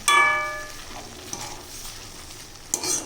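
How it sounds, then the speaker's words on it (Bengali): Hinche greens being stirred into garlic-flavoured masoor dal in a pan: soft wet scraping and shuffling under a light sizzle, with a couple of sharper clinks near the end and no voices. "শাকটা দেওয়ার পরে একটু মিশিয়ে দেবো ওর সঙ্গে ডালের সাথে ভালোভাবে একটু মিশিয়ে দেবো"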